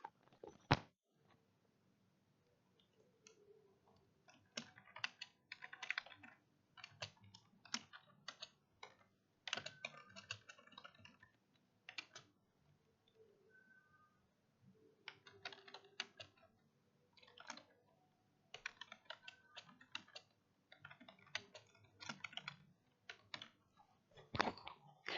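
Irregular bursts of keystrokes on a computer keyboard, close and clear, coming in quick runs separated by short pauses, with no talking over them.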